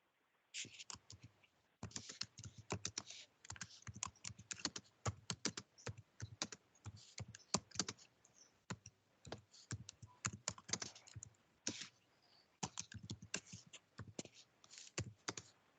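Steady typing on a computer keyboard during a citizen advisory board meeting, with rapid bursts of key clicks separated by short pauses. The sound is close and clear but fairly quiet, with no talk over it.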